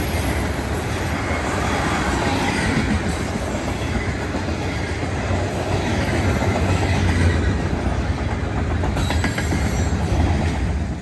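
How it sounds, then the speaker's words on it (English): A southbound Union Pacific manifest freight train in Harrisburg, Oregon rolls steadily past at close range, wheels clattering over rail joints with a continuous rumbling roar and occasional faint squeals. "Here's a southbound Union Pacific manifest in Harrisburg, Oregon."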